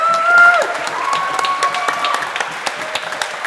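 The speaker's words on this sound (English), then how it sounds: "even that alone warrants an applause" Applause from the audience at a Cambridge Union debate hall, a full steady burst of many hands clapping, with a few cheers early on, tapering gradually as it continues.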